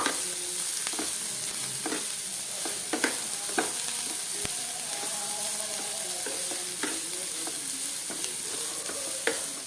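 Chicken pieces sautéing in a hot pan while being stirred for shawarma, with a constant sizzle broken by sharp scrapes and taps of a spatula at irregular intervals.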